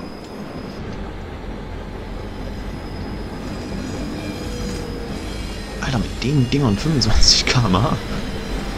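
Vossloh G6 diesel shunting locomotive in Train Simulator 2020, working the Hamburg harbour yard: a steady low rumble and rolling rail noise, swelling near the end with squealing wheel tones, under a voice talking.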